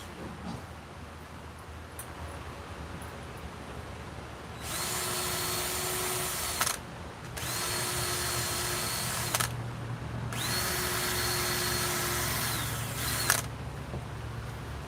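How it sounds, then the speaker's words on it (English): A power drill whirs in three sustained bursts of several seconds each, with short pauses between, fairly close and steady in pitch. "We're going to pre-drill the holes."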